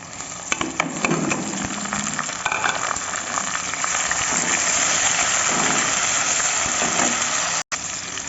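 Tomatoes and green chillies hitting onions already frying in hot oil, a steady loud sizzle with stirring scrapes throughout and a brief cut near the end.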